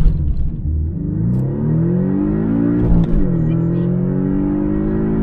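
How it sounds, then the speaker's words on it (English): A Porsche 718S (982) fitted with a Race Chip tune accelerates hard from standstill toward 100 km/h, engine droning loud and close as it climbs through the revs with a brief dip at a gear change, while a voice briefly speaks. "And now stock acceleration 0 to 100 and a quarter mile."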